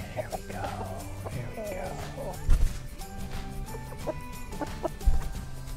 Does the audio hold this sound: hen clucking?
yes